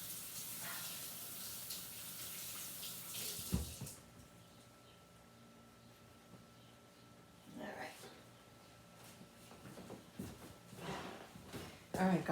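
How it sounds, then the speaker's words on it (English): Tap water running as hands are washed in a kitchen sink, a steady hiss that cuts out and returns with soft splashes and clatter, moderately close. "Let me wash my hands before I shut the video off."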